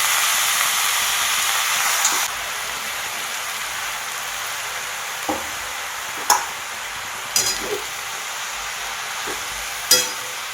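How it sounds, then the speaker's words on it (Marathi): Hadga (agati) flowers cooked as a vegetable sizzle in a pan with a steady rain-like hiss, broken by a few sharp scrapes and clinks as they are added and stirred. "आणि मी आता ही भाजी टाकून घ्यायला लागलेली आहे"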